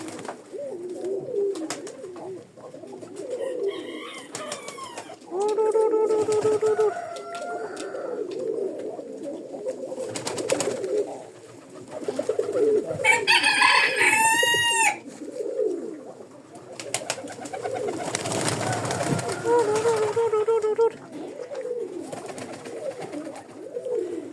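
Young Belsky breed pigeons coo repeatedly in a loose, overlapping chorus, with several nearby birds calling over a busy background of soft cooing and rustling throughout.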